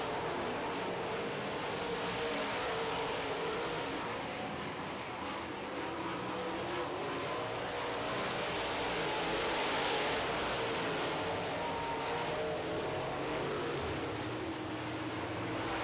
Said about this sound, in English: That 55 car of Mike Martin trying to fight off that 71 of Rick Fawcett.